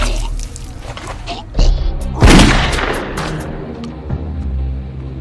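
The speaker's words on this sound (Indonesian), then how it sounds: "Mason juga menembak kepala Victor" Gunshot in a film scene of a police revenge drama, a sharp boom landing mid-clip after a smaller impact, over a tense music bed, loud and close.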